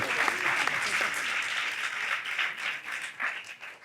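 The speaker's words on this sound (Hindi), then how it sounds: "अंकल जी के लिए तालियां बजाएं" A studio audience on a Pakistani TV talk show applauds for Uncle Mushtaq, a loud dense burst of many hands that stays full for a few seconds and then begins to thin and fade.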